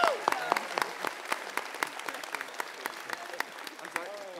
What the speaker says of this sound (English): My mom clapped for me